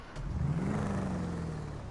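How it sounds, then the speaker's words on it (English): A deep, throaty Albany Virgo muscle car engine in GTA Online swells briefly and settles into a low rumbling idle, fairly close, with no voices. "It sounds nice and beefy for a muscle car, which is very good."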